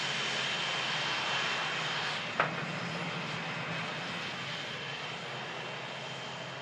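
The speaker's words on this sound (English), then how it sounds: "Finnair's entered the runway." Finnair airliner's jet engines on the runway make a steady broadband roar from a distance, with one brief sharp click partway through.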